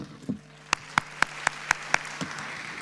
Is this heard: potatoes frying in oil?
no